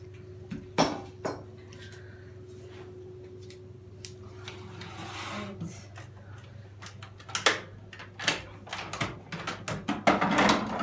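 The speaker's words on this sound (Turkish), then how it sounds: "Birazcık döveceğim size göstermek için." Repeated sharp knocks and thuds ring out irregularly as a mallet pounds skinned chicken meat, growing quicker toward the end, over a steady low hum with faint voices.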